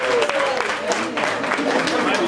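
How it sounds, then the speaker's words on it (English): An audience applauds a dancing couple at a community party, steady clapping from a crowd heard close and continuous throughout, mixed with a voice speaking over it. "Please clap for them"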